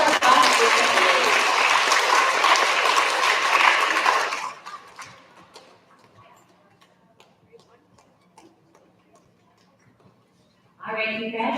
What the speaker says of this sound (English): big round of applause for all of our bus recipients